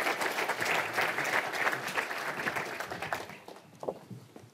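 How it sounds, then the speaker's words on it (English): A crowd at a UEFA Champions League semi-final draw applauds warmly, dense clapping at full strength for a few seconds before thinning out and fading. "Please give them a warm round of applause."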